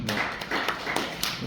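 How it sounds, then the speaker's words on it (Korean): Light clapping from a small class audience after a fashion design business presentation, a few sparse, soft claps and taps spread unevenly across a short moment, with a little background murmur. "박수 한번 주세요"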